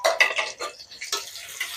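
Onions tumble into a cooking pot with a short clatter of metal and pieces hitting the pan, followed by faint scraping, close and brief with no voices.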